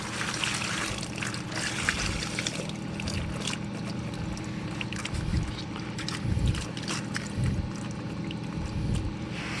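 Water poured over a mini bike tire to look for air bubbles: a steady trickling and splashing that runs for several seconds, with occasional heavier low splashes and a constant watery hiss.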